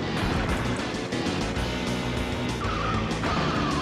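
Motorcycle engine from the SNES game Biker Mice From Mars accelerating in a race, a steady loud synthesized roar with a rising tone near the end, no talk over it.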